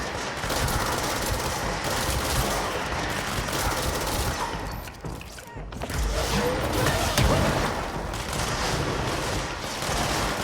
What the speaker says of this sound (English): I can't tell who's shooting what.